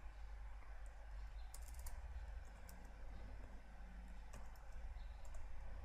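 Steady computer keyboard typing, a run of close, fast key clicks entering commands on a Linux development machine, heard alone without talk over a constant background hum.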